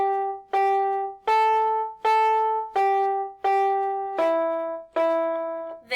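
Eight clear, evenly spaced single piano notes from the melody of Lucy Locket ring out one after another, each decaying before the next, forming a simple melodic line with no voices.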